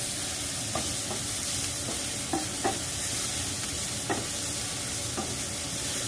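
Beef browning in a pan over medium-high heat gives a continuous bright sizzle and hiss, broken by a few soft scrapes and clacks as the meat is stirred, close and fairly quiet, with no voices.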